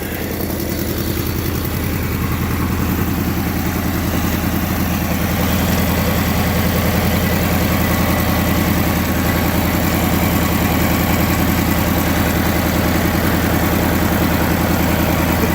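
A Kohler engine on a Cub Cadet 1811 lawn tractor, freshly fitted with a new carburetor, runs loud and close at a steady idle with a rapid, even low-pitched chugging throughout and no talk over it.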